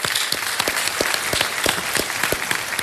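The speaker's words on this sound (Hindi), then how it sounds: "ताली बज जाए इनके लिए" Audience applause for a contestant on a televised quiz show, a dense steady round of clapping from the studio crowd, moderately loud and with no talk.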